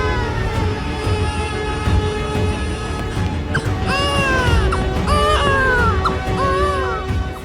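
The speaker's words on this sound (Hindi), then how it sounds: "बच्चे के रोने की आवाज" Baby crying set in a roadside scene of a rural Hindi comedy film, wavering wails rising and falling over steady background noise, with the cries strongest in the second half.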